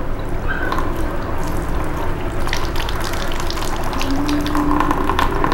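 Water pouring and gurgling as a small 12 volt DC solar pump is filled by hand, a continuous close splashing trickle with faint bubbling, no talk.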